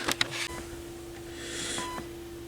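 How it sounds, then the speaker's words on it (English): A mobile phone emits short electronic beeps and a steady tone, fairly faint and alone, near an amplifier on a repair bench. "that's my phone making noise"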